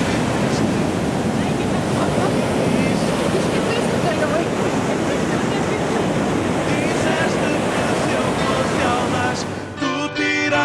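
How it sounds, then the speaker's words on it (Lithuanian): Powerful ocean waves break onto a white sandy beach in Portugal in a continuous loud roar with wind buffeting the microphone, and the rush drops away abruptly near the end. "Bet jaučiasi, kad bangos labai galingos."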